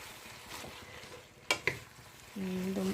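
Cabbage and mixed vegetables for lumpia being stirred in a frying pan, a low steady sizzle with two sharp utensil scrapes midway, then a brief hum-like tone at the end; no talk.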